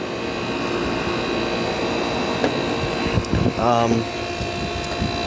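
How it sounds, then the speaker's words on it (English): A Fedders air conditioner compressor runs hot at high head pressure, making a steady broadband mechanical hum and hiss with tonal whine, a brief louder rattling surge near the end, and voices speaking over it. "So this compressor is probably running at too high of a head pressure for this."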